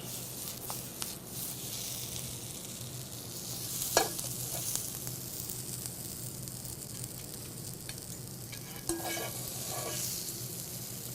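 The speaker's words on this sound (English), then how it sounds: "This is the wheat pasta I'm putting down now." Whole wheat pasta hits a hot pan with a soft, steady sizzle and a few stirring scrapes and clinks, faint and close, without talk.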